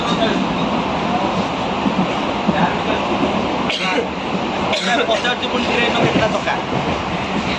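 Steady, loud rumble and rattle of a train ride heard from inside a moving carriage, with continuous wheel and car noise and brief dips, and voices talking faintly under it.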